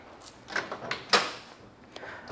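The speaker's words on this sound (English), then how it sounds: "let's open up the driver's side door" The driver's side door of a 1970 Pontiac GTO unlatches and swings open with a couple of clicks and a sharp clunk, close by, amid quiet handling noises.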